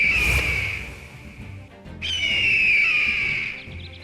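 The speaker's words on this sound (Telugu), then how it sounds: "ఇంతలోనే దానికి ఒక పెద్ద రాబందు అరిచిన శబ్దం వినిపించింది" A shrill, piercing bird screech rings out loud and close, then a second long, wavering cry follows after a short pause.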